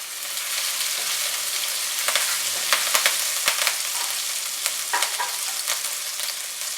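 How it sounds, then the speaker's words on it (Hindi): Chopped green chillies and garlic fry in hot oil in a kadhai, a constant crackling sizzle broken by intermittent clicks and scrapes of a stirring spoon against the pan. "अब इसमें चॉप हरी मिर्चें डालेंगे"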